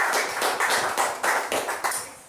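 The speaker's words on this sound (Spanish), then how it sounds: "Denle un aplauso," A church congregation claps in praise during a Spanish and Papiamento service, producing loud, rhythmic, unison handclaps in a steady beat of roughly two claps per second, close and clear with no talk over them.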